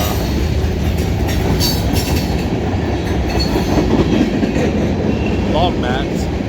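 A CSX mixed freight train rolls past at Point of Rocks, Maryland, with a continuous close rumble and rhythmic wheel clatter. Faint squeals come near the end, and quiet voices sound under the noise.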